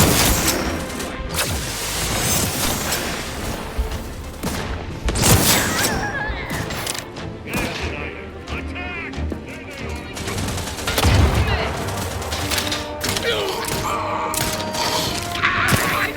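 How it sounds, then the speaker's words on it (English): Dense gunfire fills a battle in The Outer Worlds 2, with steady bursts of shots, booms and crashing impacts that run loud and unbroken throughout, and faint voices mixed in. "Moving to an entrenchment. Firing down."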